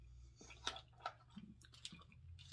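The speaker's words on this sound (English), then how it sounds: "And I'm gonna be chewing this for about 6 days." Someone chews a snack from Thailand up close, with soft wet mouth sounds and irregular small crunches and clicks and no talking.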